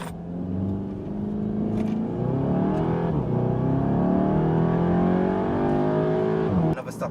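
Car launching hard from a standstill with traction control off and the gearbox in sport mode, engine revving loudly and rising steadily in pitch as it accelerates for about seven seconds, heard from inside the cabin.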